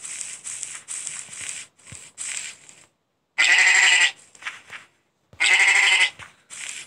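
Sheep bleats from a Minecraft-style blocky survival game, two loud bursts standing out sharply against quieter, scattered game sounds and short gaps of silence.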